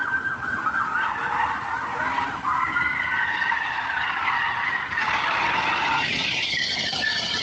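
A car skids hard on the road in a hit involving a woman delivering food, a loud, sustained tire screech running the whole length with a steady high squeal and traffic noise beneath, no talk over it.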